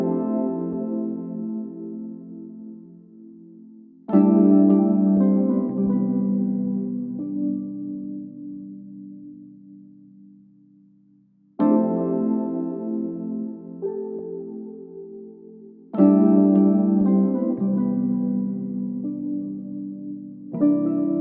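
A sustained electric piano chord progression layered with a bright Korg Triton synth preset for high-end sparkle, for an R&B beat; four long chords ring and decay slowly, clear and close with no talk.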